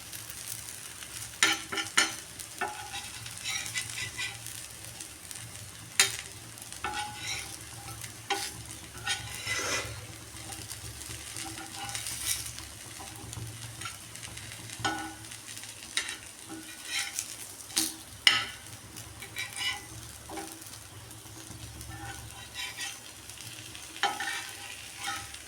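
Elephant foot yam pieces fry in a small amount of oil for a crisp fry, with a steady soft sizzle and repeated scraping, clattering strokes of a stirring spoon against the pan, close and alone.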